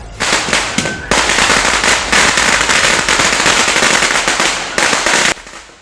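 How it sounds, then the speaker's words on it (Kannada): Firecrackers burst in a rapid, dense string of loud, sharp cracks that goes on for several seconds, with a short pause near the start and a quick fade at the end. "ಅವತ್ತು ಸಿಡಿದ ಪಟಾಕಿಯ ಸದ್ದು ಏನು ಪ್ರತಿಧ್ವನಿಸ್ತಾ ಇದೆ"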